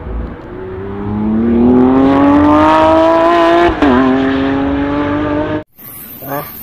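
A Lamborghini sports car engine revs loudly and steadily, its pitch climbing for several seconds, dipping briefly, then holding before cutting off abruptly, followed by faint background noise.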